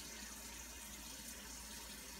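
Filtered fresh water running steadily into a cooking pan in a kitchen, a soft, constant faucet-like hiss and trickle, quiet and uninterrupted with no talking.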